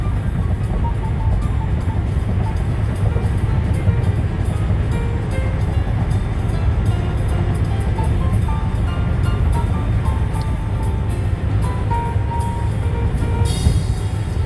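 Steady, loud low rumble of a Grand Marquis cruising slowly on the 405 freeway near the 5 and 14 interchange, with continuous road and engine drone and faint ticking rattles throughout, no voices.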